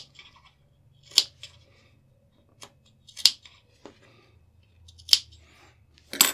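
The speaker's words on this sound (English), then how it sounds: "Now I'm going to clip these curves." Scissors clipping curves in sewing fabric: four or five crisp, separate snips spaced about two seconds apart, close and fairly quiet over a soft low hum.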